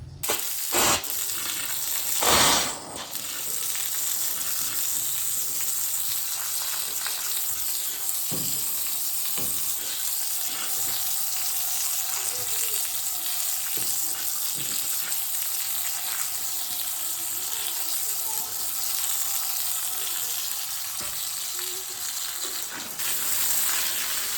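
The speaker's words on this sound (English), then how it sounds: "spray it with water and see if I can get that mud to come out of there" A continuous hissing spray of water into an old garage floor drain clogged with mud, running for a long stretch, with occasional knocks and clunks underneath, no talking.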